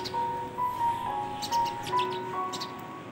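House sparrows chirp at a backyard feeder, giving a run of bright, overlapping tweets and quick chatter that carries clearly and steadily for a few seconds, with no voices present.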